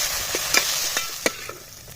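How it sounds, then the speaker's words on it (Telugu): Mint and coriander leaves fry in oil with a soft sizzle, while a spoon knocks and scrapes the pan in several sharp taps over a couple of seconds. "ఒక 3 నిమిషాలు పుదీనా, కొత్తిమీర అంతా మంచిగా ఫ్రై అయ్యేంత వరకు మంచిగా ఫ్రై చేసుకుందాం."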